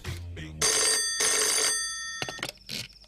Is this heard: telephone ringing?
yes